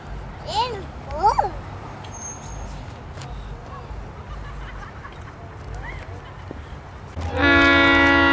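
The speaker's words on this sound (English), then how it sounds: "Say that again, it's your first train?" A train approaches with a low rumble under a child's and an adult's voices, then near the end a loud, sustained multi-tone horn blast sounds up close and holds.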